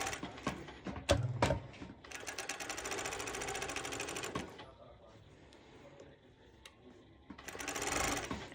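A domestic sewing machine stitches a seam on a sporty ruffled top, running in two steady motorized bursts, a longer one near the start and a shorter one at the end, with quiet handling and fabric rustle between them.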